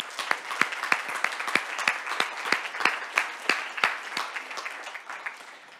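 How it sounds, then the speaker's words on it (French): Audience applause at a tech awards gala in Montreal, steady crowd clapping with sharp individual claps standing out, moderately loud throughout with no talk over it. "On peut tous les applaudir maintenant."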